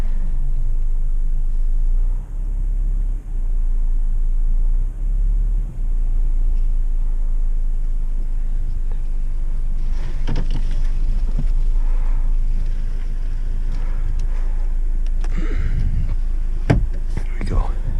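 A 2014-2017 Kia Forte sets off on a test drive after a front brake pad replacement, its low engine and road rumble steady throughout, with faint whispery talk and some brief knocks near the end.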